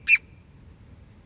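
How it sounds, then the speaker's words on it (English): A single short bird chirp at a side window during feeding, one bright close call at the start, then only a low background hum. "this bird jumped up on my side window there, and he's chirping"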